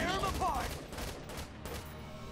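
Rapid automatic gunfire from the video game Valkyria Chronicles 4 fills the moment, a dense volley of overlapping shots at steady loudness with in-game voices and music underneath.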